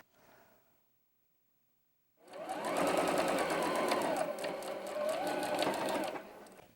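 A sewing machine stitches fabric pieces together for a pieced quilt block, a fast, even motor whir with rapid needle clatter that starts after a short pause and runs steadily for several seconds.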